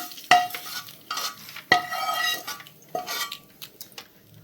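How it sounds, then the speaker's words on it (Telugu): A spoon scrapes and clatters through lemon rice in a metal vessel as hot tempering is mixed in, giving a few sharp knocks followed by bursts of scraping stirring, close and fairly loud. "తాలింపు మొత్తం రైస్లో వేసాను రైస్లో వేసి ఇలా కలుపుకుంటున్నాను"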